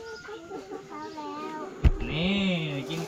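Laying hens feeding in a poultry house cluck and murmur in soft, overlapping calls at moderate distance, with one sharp knock partway through and a low hum beneath.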